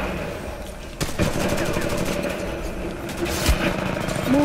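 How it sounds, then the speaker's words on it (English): Automatic gunfire in Titanfall 2, rapid rattling bursts and shots ringing out amid game engine hum and battle noise, moderately loud and continuous. "Somebody's shooting at me."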